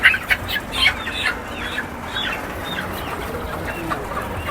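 Chickens and roosters clucking among live poultry stalls at Kawran Bazar in Dhaka, a dense layer of overlapping calls with a few sharper bursts near the start over steady market bustle.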